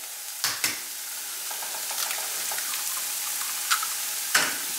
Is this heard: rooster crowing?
no